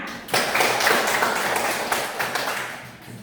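Primary school pupils in an Indonesian classroom clap their hands together in a brief, fairly loud burst of scattered claps that tapers off over a few seconds.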